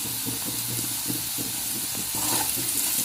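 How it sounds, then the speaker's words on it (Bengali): Potatoes and onion greens frying in a pan with a steady close hiss and sizzle of hot oil, occasional soft stirring knocks underneath, continuous and fairly loud with no talking. "পেঁয়াজ কলি আর আলু ভেজে নেব।"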